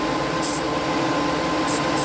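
Airbrush backwash while painting a chassis with Outlaw Paints, a continuous hissing spray of air with short bright bursts of higher hiss, close and steady.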